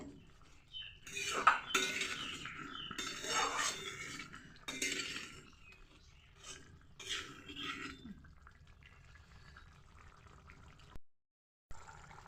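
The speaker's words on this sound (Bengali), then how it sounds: "পনিরগুলো দিয়ে দেবো দিয়ে আবার নাড়াচাড়া করে নেবো" Paneer pieces being stirred in a pan for matar paneer, quiet intermittent clinks and scrapes of a spoon against metal with soft wet sounds, fading toward a brief silence near the end.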